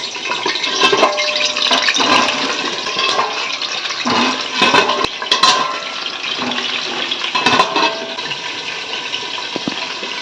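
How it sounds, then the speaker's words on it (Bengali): Potatoes fry hard in mustard oil in a wok, giving a continuous loud sizzle and crackle with occasional sharper spatters throughout. "আর এবার আলুগুলোকে কড়া করে ভেজে নেব"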